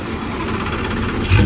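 Lamborghini engine fitted with a new exhaust, idling with a low steady rumble that swells into a louder rev near the end.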